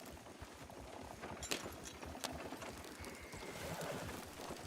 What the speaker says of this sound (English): I'm gonna take the horse carefully through